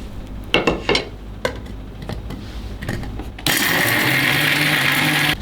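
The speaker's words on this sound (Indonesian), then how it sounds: "Sekarang kita mau chopper kacangnya dan bumbu yang sudah kita goreng tadi" A food chopper whirs loudly and steadily as it grinds fried peanuts and spices for a snack sold in packs, after a few quieter clinks and handling knocks, close up and with no voices.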